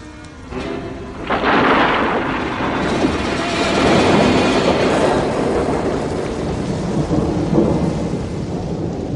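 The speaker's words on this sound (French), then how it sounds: "Quelle tempête!" Radio drama thunderstorm effect: a loud rolling thunder crash builds and rumbles on, layered over steady heavy rain, dense and close throughout.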